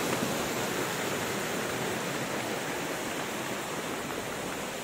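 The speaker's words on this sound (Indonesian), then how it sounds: "Air terjun cilik-cilian." Water rushes in a steady, dense broadband roar from small waterfalls along a Semeru lahar flow channel, continuous and unbroken with no voices.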